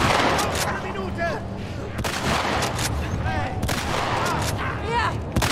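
Repeated bursts of gunfire crackle through a busy soundscape in the video game The Last of Us Part II, loud and close, with broadband blasts recurring every second or so over a constant rumble.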